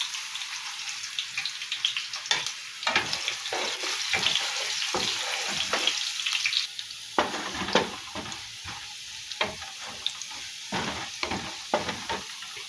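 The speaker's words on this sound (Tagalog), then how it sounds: "Magigisa muna po ako. Ayan, nilalagay ko na po itong bawang." Garlic sautés in hot oil in a pan for monggo with malunggay, a steady close sizzle with repeated scraping and stirring strokes, no talk.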